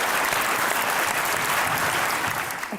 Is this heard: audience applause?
yes